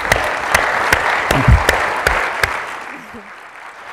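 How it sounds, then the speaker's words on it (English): Applause from the audience at an Arundhati Roy conversation with Avi Lewis. Steady clapping runs throughout, with a few sharp, close claps standing out, and it thins toward the end. "I'll clap for that."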